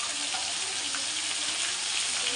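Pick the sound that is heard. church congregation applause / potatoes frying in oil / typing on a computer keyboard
potatoes frying in oil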